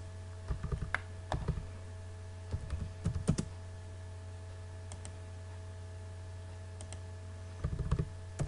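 Keys clatter on a computer keyboard as AutoCAD commands are typed in short clustered bursts of quick taps with pauses between, over a steady low electrical hum.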